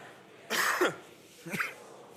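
A man coughs hard twice during a church service, a harsh burst followed by a shorter second cough after a pause, close and clear with no talking.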